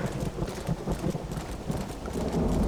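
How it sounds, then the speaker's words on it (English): Horse hooves clip-clopping at a steady pace in the video game Red Dead Redemption, the best horse in the game, a continuous rhythmic patter under a dense, rumbling background. "This is the best horse in the game"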